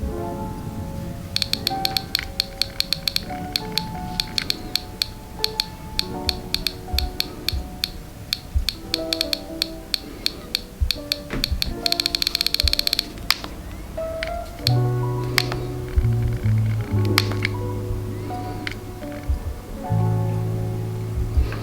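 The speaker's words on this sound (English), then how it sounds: "the feeling of spinning the wheel on an iPod is extremely nostalgic" An iPod click wheel spun with a finger gives rapid, evenly spaced ticking clicks in fast runs and pauses, close and crisp, over faint background music.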